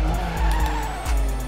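A Ferrari race car braking into a corner in a Ferrari Challenge racing video game: a loud, close engine drone with steady harmonic tone, tire squeal, and pulsing downshift dips over about a second and a half.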